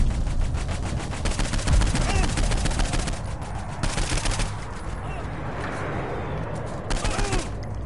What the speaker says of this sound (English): Gotta shoot him first.